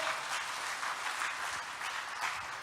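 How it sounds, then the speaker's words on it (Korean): An audience at a church lecture in the World Headquarters Church applauds steadily, a dense, even wash of many hands clapping, moderately distant, with no voices over it. "이것도 박수 한번."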